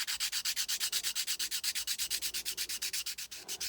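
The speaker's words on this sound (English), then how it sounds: "Next I take a sanding stick and I just want to sand the bottom." A sanding stick rubs back and forth across the bottom of a small silver piece being shaped for enamelling, giving steady, rapid rasping strokes about eight per second, close and clear with no talking.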